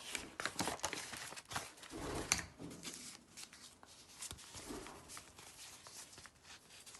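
Paper sheets from a handmade paper collection being flipped and shuffled indoors, producing repeated soft rustles and crisp flicks at close range that continue through the clip.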